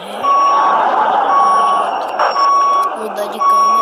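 Steady, repeating reversing beeps from a truck backing up in the Euro Truck Simulator video game, loud and continuous under the game's engine rumble, with a brief break midway.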